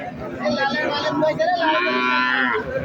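A calf's long, sustained moo sounds up close at a cattle market, with people talking underneath in a busy, noisy setting.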